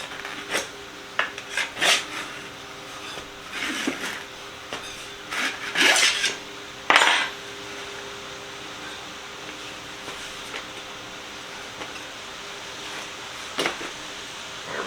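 A knife scrapes and rasps against a bike rim while an old street tire is pried off during a vintage 1977 bicycle restoration. The sound comes as irregular close bursts of scraping separated by quieter gaps, with no talk.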